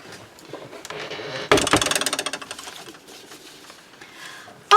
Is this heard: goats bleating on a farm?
no